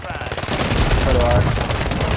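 Rapid automatic gunfire in a Warzone ranked match, a loud, dense burst of shots rattling close and continuously for about two seconds.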